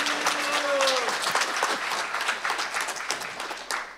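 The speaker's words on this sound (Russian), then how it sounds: "Еще аплодисмент." Listeners at a Sunday lecture applaud, a burst of many hands clapping that peaks early then thins and tapers toward the end, with a brief hum at the start and a few scattered late claps.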